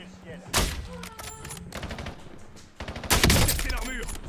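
Gunfire in the video game Warzone: two loud bursts of automatic shots with scattered shots between, over game effects and a talking voice.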